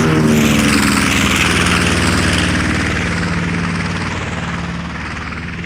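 Radial piston engines of a B-25 Mitchell bomber roar at steady, loud power throughout, a dense droning rumble with propeller throb, easing slightly toward the end.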